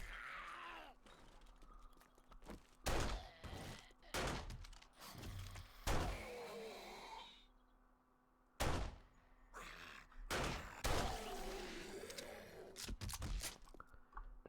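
Pistol shots fired in the zombie survival game 7 Days to Die, a series of sharp, loud single cracks spaced irregularly, with quieter game movement and thuds between them.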